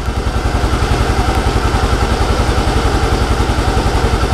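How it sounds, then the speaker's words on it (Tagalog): A Yamaha Mio Gear scooter engine idles steadily just after starting, a loud, close, even rapid putter with no talking over it. "papander natin yung ating makina. Okay, yan, umaandar na."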